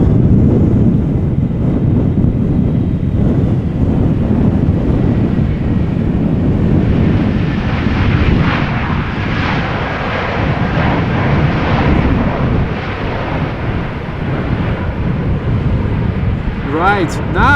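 An EasyJet Airbus A320neo lands at Amsterdam Schiphol during Storm Pia, its low jet rumble swelling and fading under heavy gusting wind buffeting the microphone.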